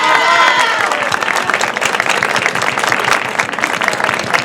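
A theatre audience at a mystery-themed stage show in the Veneto gives dense, sustained applause, loud and close, steady for several seconds with a faint murmur of voices beneath.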